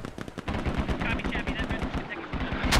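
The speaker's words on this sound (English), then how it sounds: "These mortars landing right in the doorframe." In the Squad video game, rapid bursts of gunfire and explosive impacts crack and thump in quick succession, loud and close, with a voice partly under the barrage.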